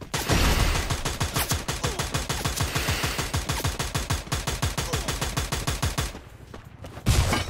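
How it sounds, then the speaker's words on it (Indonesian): Rapid gunfire from an online shooter game, long sustained bursts of shots firing in quick rhythm for about six seconds, a brief lull, then another loud burst near the end. "tembakan mulai diarahkan saja ke depan"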